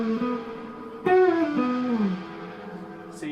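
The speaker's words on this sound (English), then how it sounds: "So yeah, then we've got like this distorted reverb." An electric guitar plays a few clean notes through a distorted reverb effect, with a sliding tone that swells and then trails off into a murky, washy tail, close and moderately loud.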